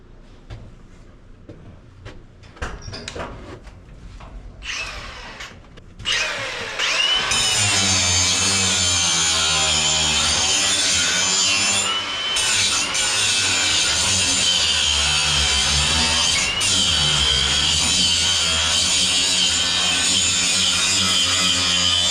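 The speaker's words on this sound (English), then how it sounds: "I have to have the grinding wheel to get it off." A few clicks and brief bursts, then a Milwaukee power drill fitted with a grinding wheel spins up loudly and runs continuously with a harsh grinding whine.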